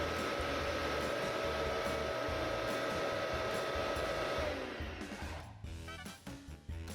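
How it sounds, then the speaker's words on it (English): Air blower blowing a steady stream over block shapes in a drag experiment, a loud constant whooshing hum that cuts off near the end, leaving faint clicking and rattling. "let's start blowing air over these shapes and record the deflections for each one"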